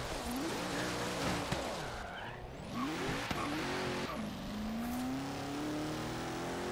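Car engine in the Forza Horizon 3 racing game, revving and rising in pitch through several gear changes with brief tire and skid noise, loud and continuous throughout.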